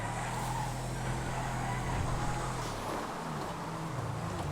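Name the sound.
Ricoto car driving in video game GTA FiveM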